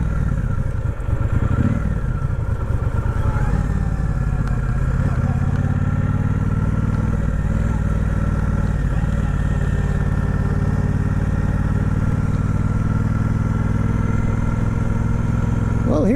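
Triumph 1200 motorcycle riding on curvy roads near Oroville, California: a steady loud engine drone with wind rush from the rider's position, constant throughout with a slight rise at the start.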